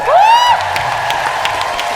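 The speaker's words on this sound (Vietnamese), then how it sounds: "Vỗ tay." A studio audience on the Vietnamese TV show Siêu Trí Tuệ Việt Nam breaks into steady, loud applause, opening with a rising whistle-like glide before the clapping carries on evenly.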